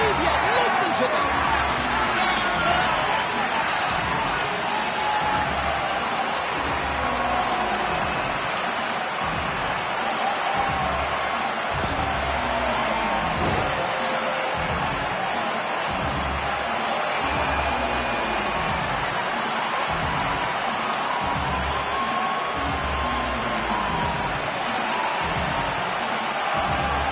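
Roaring stadium crowd in an EA Sports video game, a dense steady wall of cheering and noise that holds loud and unbroken throughout, with a commentator talking over it.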